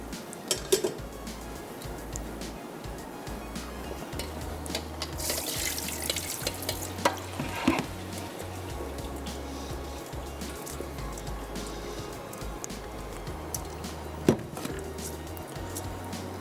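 Rice tipped into a pot of simmering mutton yakhni broth, heard as a steady watery pouring and bubbling wash with a louder rushing burst midway, a few metallic clinks and a low hum throughout, no voices.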